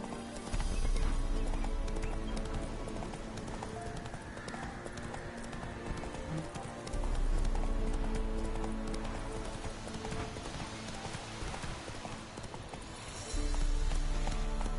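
Horse galloping with rapid rhythmic hoofbeats and occasional whinnies in the video game Witcher 3, steady and close, with a faint voice over it.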